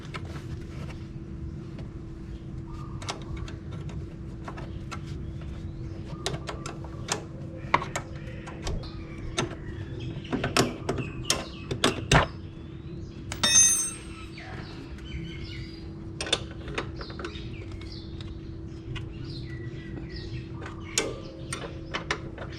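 Clicks and ratcheting turns from the adjuster being unscrewed on an Ohlins X-Max 300 shock absorber, faint and irregular over a low steady hum, with a brief cluster of louder clicks midway.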